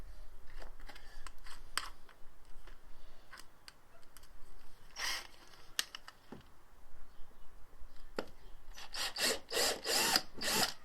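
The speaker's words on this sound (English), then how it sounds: "drills do have a habit of dancing around, so I think it's safer unless you want to ruin your bumper" A power drill bores into the bumper of a Fiat 500 Convertible during a rebuild, heard as short intermittent whirring and grinding bursts, faint at first and growing louder and denser toward the end.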